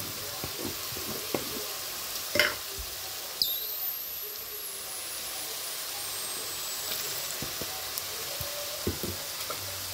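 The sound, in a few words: potatoes and carrots frying with salt and turmeric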